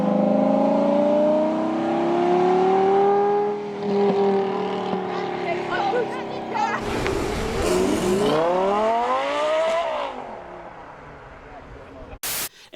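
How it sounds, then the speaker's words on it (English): An Audi 5.2 liter V10 engine revving hard, its loud rising and falling whine sweeping up through gears and then fading as it passes, ending with a short burst of static. "if you listen to these two engines back to back, you can actually tell a notable difference in how these engines sound"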